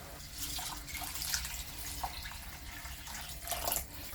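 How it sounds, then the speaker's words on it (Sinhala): Water runs steadily into a pot for cooking chicken masala rice with basmati, a soft continuous splashing and trickle with a few brighter drips, close and fairly quiet. "මේ විදිහට වතුර පුරු එකමාර දෙකක් විතර එකතු කරගෙන"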